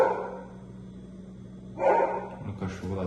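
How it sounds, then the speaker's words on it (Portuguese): A dog barks a couple of times at a distance in short bursts, mixed with a person speaking nearby. "o cachorro latindo"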